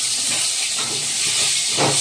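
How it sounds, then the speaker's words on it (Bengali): Potato pieces hitting hot oil in a wok give a loud, steady hiss of frying that fills the clip, with a brief surge near the end and no talking. "ওই কড়াইয়ে আমি দিয়ে দিচ্ছি আর একটু তেল। আমি ওই তেলে দিয়ে দিচ্ছি টুকরো করে, এরকম টুকরো করে কেটে রাখা আলু।"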